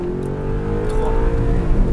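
An Audi R8 at full throttle on a track during a driving course, its engine note climbing steadily and loud from close inside the cabin, a strong rising harmonic drone throughout.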